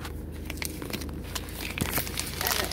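A plastic package of Parkview turkey polska kielbasa sausage from Aldi is peeled open, giving close crinkling and crackling plastic with a few sharper tearing bursts toward the end.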